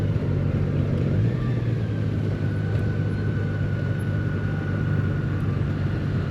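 A motorcycle engine idles while warming up on a cool morning, a steady low hum and drone with a faint whine holding constant, no voices over it.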